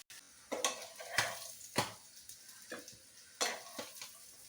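Fish frying in a pan in a Kerala home kitchen, a soft steady sizzle broken by several sharp utensil scrapes and clinks, close and without speech.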